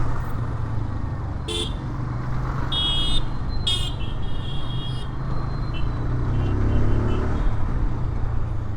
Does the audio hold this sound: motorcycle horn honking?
yes